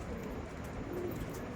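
Mangalagiri and Andhra Lalsira pigeons in a loft give soft, low cooing that rises and falls steadily over a faint background hiss, with no voices.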